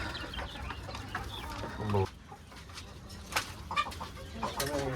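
Egg-laying hens in caged farm housing cluck and call in scattered, overlapping bursts at moderate distance over a constant background hum, some calls rising sharply and close.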